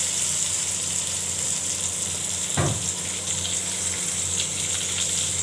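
Pointed gourd (potol) frying in a pan with mustard seeds, a steady, close hiss of oil sizzling throughout, broken once by a brief louder crackle partway through.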